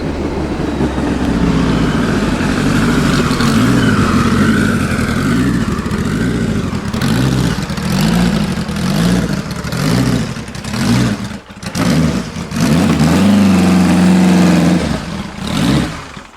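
A car engine pulls away loud and close and accelerates through the gears, its steady drone rising and dipping at each shift and then surging again before easing off.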